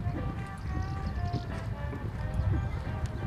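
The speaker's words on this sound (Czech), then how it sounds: "Veronika Jelínková sedla koně Houston VKC" Horse hooves clip-clop on the ground at a show-jumping competition in Opava, a steady run of hoofbeats under crowd murmur and a faint tonal background.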